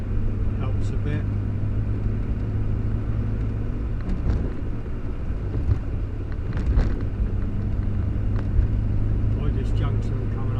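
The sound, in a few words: Morris Minor car slowing down and changing down gears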